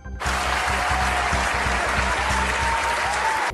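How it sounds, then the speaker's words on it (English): A group bursts into steady applause, a dense continuous patter of clapping hands that starts abruptly and holds loud and even throughout, with no talking. "Clap for yourself."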